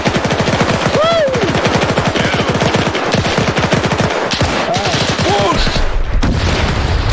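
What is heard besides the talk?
MG-42 machine gun fire in video game Arma 3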